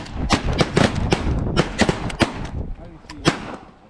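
Shotgun blasts fired at ducks on a North Dakota waterfowl hunt come in a rapid, loud volley of about eight close, sharp reports over a couple of seconds, then tail off.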